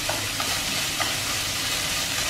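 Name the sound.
stir-frying meat in a pan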